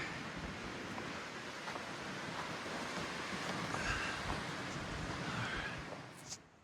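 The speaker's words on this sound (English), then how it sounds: "it is cold and windy." Strong cold wind on the Appalachian Trail buffets the microphone in a loud, continuous roar that swells slightly, then drops away near the end.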